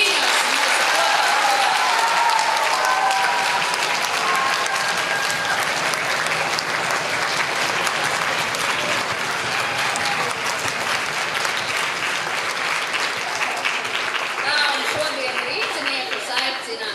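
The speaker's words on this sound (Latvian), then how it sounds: "sagaidām ar aplausiem viņus mūsu kopā" Loud, sustained applause from a large audience at a folklore ensemble concert, steady clapping throughout that thins slightly toward the end.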